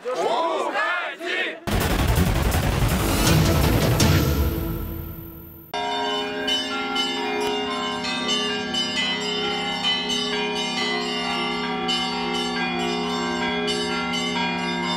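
Church bells ring out loudly and continuously in Ulyanovsk, a dense clanging peal that follows a burst of shouting crowd noise.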